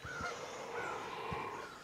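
Geese disturbed from the grass outside a door give a few honking calls over steady outdoor background noise, fairly near and moderately loud.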